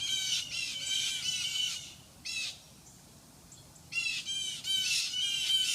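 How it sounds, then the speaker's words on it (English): Blue jays, cardinals, sparrows and grackles in a tree near a snake give loud, harsh bursts of squawking in rapid repeated calls, a brief quieter gap, then another agitated flurry, close and with no talk. "So right now the birds in this tree are going nuts."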